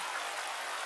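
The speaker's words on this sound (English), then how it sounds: "Rain crashes against the rooftop." Rain pounds against a rooftop in the video game SPINES, a steady, loud, dense hiss with no break or voices over it.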